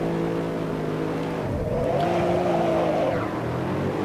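In the Assetto Corsa racing game, a Mercedes SLS on the Nürburgring GP circuit holds its engine at high revs, then dips and climbs again in first gear on launch. The rasp is loud and steady, with no speech.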